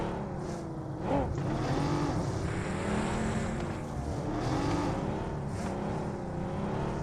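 Cars driving in a battle royale video game, engines droning and shifting pitch as vehicles rev and accelerate nearby, a continuous mid-loud motor hum with no talking.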